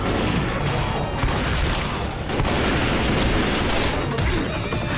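Shotgun blasts and other gunfire in the zombie shooter game Left 4 Dead 2, a loud, dense barrage filling the whole stretch, with players talking over it.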